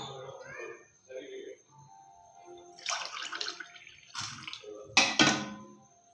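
Water is poured from a glass into rava (semolina) for upma, giving a brief splashing gush near the end. Someone talks over quieter stretches before it.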